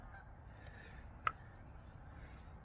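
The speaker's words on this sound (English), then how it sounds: "The geese are coming back." A single faint honk from a distant goose breaks a quiet outdoor background, brief and alone.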